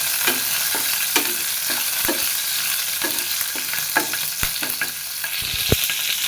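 Green chilies frying in hot oil for a hilsa fish curry, a steady close sizzle broken by sharp stirring scrapes and clicks throughout.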